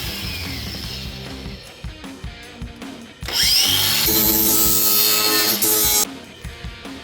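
An angle grinder cleans up metal work on a 1965 Mustang in a home garage, opening with scattered clanks and handling noises before a loud, high whine runs for about three seconds and then cuts off.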